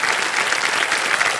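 A studio audience applauds on the KBC game show, a dense, steady burst of clapping that fills the room loudly throughout.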